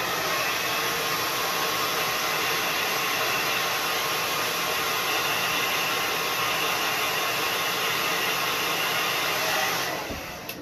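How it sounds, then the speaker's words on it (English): A handheld hair dryer blows steadily and loudly at close range while drying a freshly made craft, a constant rushing whoosh that holds for about ten seconds before switching off abruptly. "I think I'm actually going to blow dry this too because I don't want to put my fingers in it"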